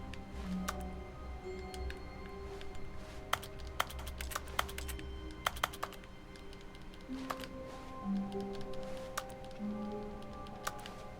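Computer keyboard typing during a Stanley Parable play session: a scatter of crisp, irregular key clicks in short bursts over a low room hum, close by and with no talking.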